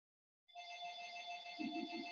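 A telephone rings steadily and clearly for well over a second after a brief silence, with a faint low rustle or movement joining near the end.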